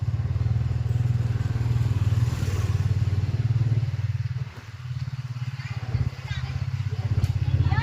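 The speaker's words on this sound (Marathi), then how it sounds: "गाडी चालू झालेली आहे." A motorcycle engine idles and runs steadily at night, ridden one-handed, its low throbbing hum close and continuous with a brief dip midway, while a person speaks over it.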